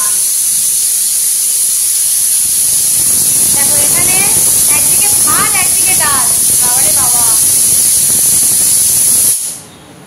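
A pressure cooker whistle blows in a home kitchen, a steady loud hiss of escaping steam running nearly ten seconds with a shrill whistling tone on top, then cutting off abruptly, while voices chatter faintly underneath.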